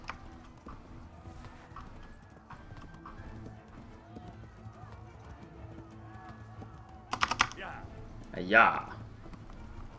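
A horse's hooves clip-clop at a walk in the medieval video game Kingdom Come: Deliverance, soft and rhythmic under quiet game ambience, followed by a louder burst and what sounds like a snort or whinny. A voice speaks briefly.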